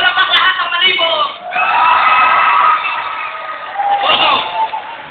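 A comedy show audience cheers, whoops and shouts in loud waves that rise and fall, with laughter and some clapping beneath the crowd noise.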